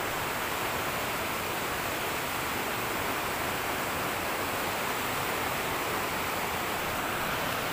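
A river swollen by heavy rain rushes past in a dense, continuous roar of water, steady and fairly loud from start to finish, with no voices.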